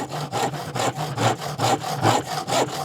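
Slow, rough back-and-forth strokes of a worn-out, blunt hand saw rasping through wood, about a dozen steady passes, close and loud.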